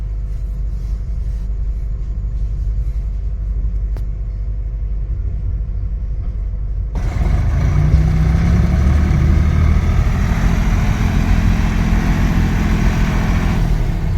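Boat engine at a river ghat on the Assam–Arunachal border during a fair, a low steady rumble that swells noticeably louder halfway through as the boat draws close, droning continuously without voices.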